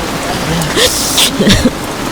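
Rain starts falling outdoors, a loud, steady hiss of drops on surfaces, with a few brief louder splashes.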